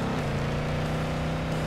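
A video-game car engine drones as a steady, fairly quiet hum with a sustained low tone, heard alone for under two seconds.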